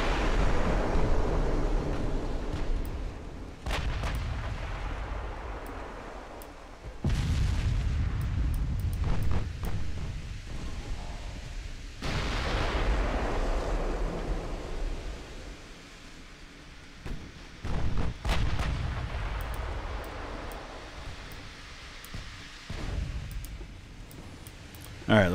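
Heavy 17-inch naval shells firing in the warship game Ultimate Admiral: Dreadnoughts, several deep booming blasts a few seconds apart over a continuous rumbling roar, with someone talking throughout.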